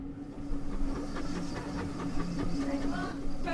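A heritage train on the Dean Forest Railway rumbles steadily along the rails with a low droning hum and faint rhythmic clatter, continuous and fairly close throughout.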